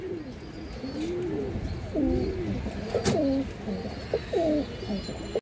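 An old-line pigeon coos in repeated low, rolling phrases and vibrates its wings, close by, over a steady background of rustling and crowd noise. A single sharp click stands out near the middle.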